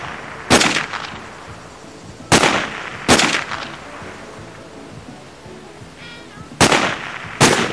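Five sharp sniper rifle shots in Sniper Ghost Warrior on a training range, each a loud crack with a brief decaying tail, spaced irregularly across a quiet background.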